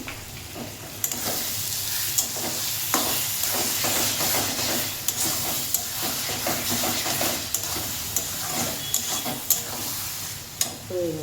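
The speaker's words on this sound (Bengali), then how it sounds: "এবার সামান্য ঘি আর গরম মশলা দিয়ে একটু নাড়িয়ে নিয়ে" Masala chicken fry stirred in a pan with ghee and garam masala, a steady sizzle and hiss of frying carrying sharp spoon scrapes and clacks throughout, close and loud, with a brief spoken phrase near the end.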